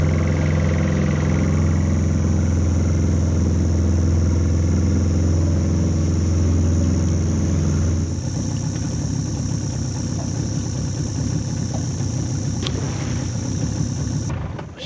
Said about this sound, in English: shut that engine off